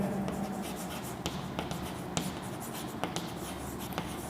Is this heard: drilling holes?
no